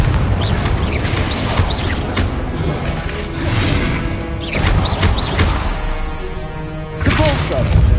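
Repeated Confringo fire-blast spell explosions in Hogwarts Legacy combat, loud booming bursts at irregular intervals amid crashing impacts and continuous game noise, with a voice talking over them.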